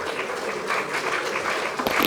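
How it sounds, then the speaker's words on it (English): An audience at a conference opening ceremony claps together, a dense steady wash of applause filling the whole short moment. "Can we please applaud her?"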